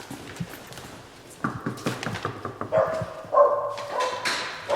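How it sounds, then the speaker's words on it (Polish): A dog barks inside an apartment after the doorbell is rung, a run of sharp barks that builds in loudness, with some higher whining tones, heard from behind the door. "zadzwoniliśmy do mieszkania i nagle pies"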